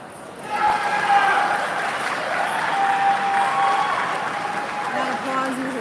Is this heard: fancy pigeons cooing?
no